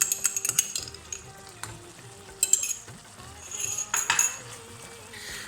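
Garlic paste is stirred into a curry in a pan, with soft sizzling under scraping, clinking spoon-on-pan strokes that come in irregular bursts, close and moderately quiet.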